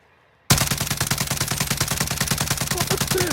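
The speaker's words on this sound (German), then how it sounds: "Er hat einfach raufgeschaut und geschossen." Rapid automatic gunfire from Call of Duty Warzone erupts suddenly after a brief quiet, a loud, close, sustained burst of evenly spaced shots.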